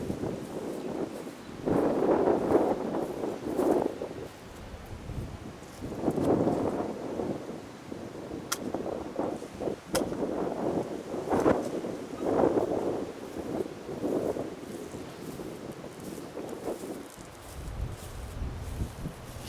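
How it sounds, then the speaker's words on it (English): Strong wind gusting outdoors and buffeting the microphone in repeated low, blustery bursts of noise rising and falling throughout. "Sorry for the wind, it's really windy out here today."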